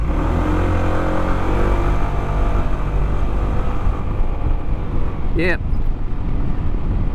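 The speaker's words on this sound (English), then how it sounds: "Traditional scooter sound, right?" A Honda ADV 150 scooter engine runs with a steady droning hum and revs up, loud and close, while a brief word is spoken over it.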